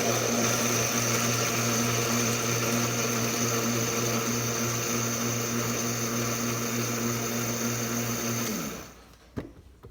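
Vitamix blender grinding oats, a loud steady high-pitched motor whine holding constant for about nine seconds before spinning down and cutting off.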